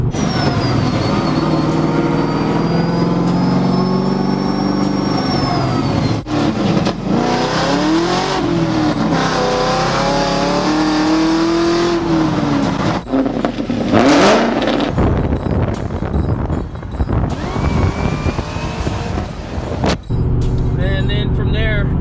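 A turbocharged car engine revs up and down repeatedly, loud and close, with rising and falling pitch sweeps while someone talks over it.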